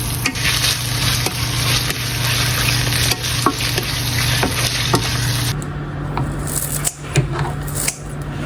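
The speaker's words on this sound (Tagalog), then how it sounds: "nagsote muna ako ng ating mga pangsahog na lamas" Garlic, onion, ginger and black pepper sauté in a pan, giving a steady close hiss of frying with scraping stirs and faint clinks; the sizzle drops sharply partway through, then continues more quietly with occasional utensil taps.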